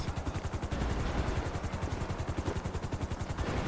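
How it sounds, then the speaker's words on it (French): Helicopter flying in a role-play video game, a loud, close, steady rotor chop with fast rhythmic thumping pulses throughout, heard alone without talk. "Je t'avais dit, l'hélico, je t'avais dit."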